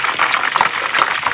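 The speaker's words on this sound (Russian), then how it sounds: "Жарим до румяности с двух сторон." Close, busy sizzling and crackling of chebureki pastries frying in hot oil, with irregular popping bursts.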